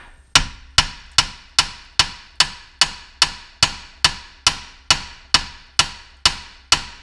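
Hammer blows on a Ford Mustang ball joint ring out in a steady series of about fifteen sharp metallic strikes, evenly spaced roughly half a second apart, loud and close, with each hit decaying quickly and no talking.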